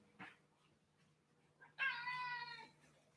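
A pet cat lets out a single drawn-out meow, close but fairly quiet, preceded by a brief soft chirp in an otherwise quiet room.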